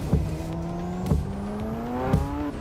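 A car engine in a driving video game drones steadily and climbs slowly in pitch, punctuated by three sharp thumps roughly a second apart, with no talking.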